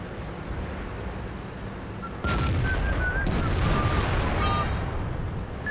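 Tank cannon fire in a video game lands as two heavy booms partway through, followed by a sustained rumbling wash and a faint whistling tone over steady background noise.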